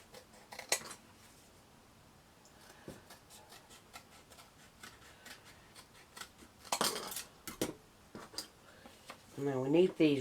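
Scissors cut craft material for a vintage Christmas village model, with scattered soft snips and a couple of louder rustling cuts, while someone talks near the end.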